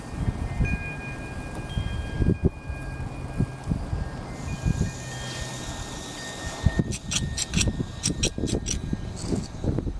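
Wind gusting around a camping stove outdoors, a steady rough low rumble with buffeting bursts and some clattering near the end, loud and close to the microphone.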